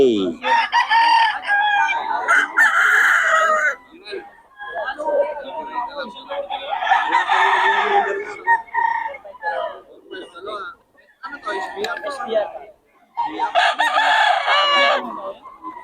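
Boston roundhead gamefowl roosters crowing and clucking loudly nearby in several bursts, with someone talking between and over the calls.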